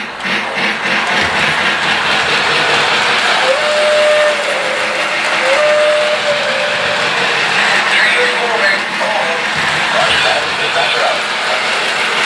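A LionChief toy steam train runs in reverse along its track, giving a steady rolling rumble with clicking wheels and faint whistle-like tones throughout, while a person talks over it.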